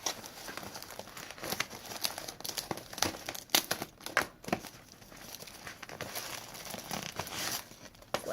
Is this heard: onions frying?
no